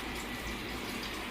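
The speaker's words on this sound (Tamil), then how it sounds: "இப்போ வந்து நான் தண்ணி கொஞ்சம் சேர்த்துக்கிறேன்." A brief, steady stream of water pours and gurgles into a cooking pot of country chicken curry close by, soft and continuous.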